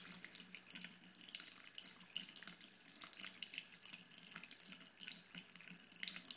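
Water runs steadily from a sink faucet in a continuous faint splashing hiss while a dog drinks, with small drips and laps mixed in, close by and without talk.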